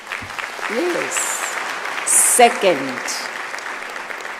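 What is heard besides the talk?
applause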